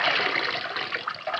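A water hose sprays steadily over a Mylar-insulated motor contaminated by flood silt. The rushing, hissing splash is loud and continuous, with no voices.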